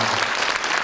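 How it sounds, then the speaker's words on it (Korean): Dense, steady applause from a crowd at a political constituency report meeting, filling the whole moment at close range with no voices over it. "큰 박수 부탁드립니다"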